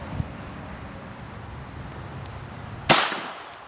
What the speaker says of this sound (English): we shot the skull